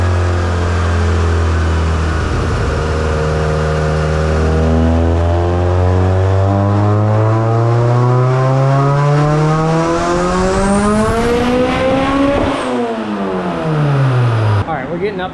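A turbocharged Honda EG hatch engine on a dyno climbs through a long, loud rising rev pull, drops briefly, then falls away as the run ends, with a sharp whistle near the top.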